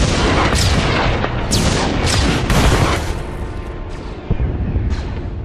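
Orbital strike bombardment in Star Wars: The Old Republic, a dense barrage of heavy booms and blasts rolling over one another continuously, loud and close, with sharp impacts punctuating a roaring wall of explosions.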